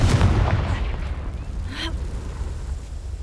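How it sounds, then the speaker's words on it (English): A fiery spell explosion in the video game Hogwarts Legacy bursts loudly at the start, then fades into a rumbling tail with a faint crackle. "Confringo!"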